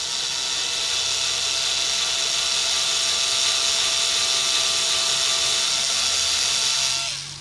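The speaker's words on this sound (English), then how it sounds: "I'm going to use my little pilot drill" A small pilot drill whirs steadily at a high pitch for several seconds without pause while boring pilot holes for guitar tuners, then winds down and stops.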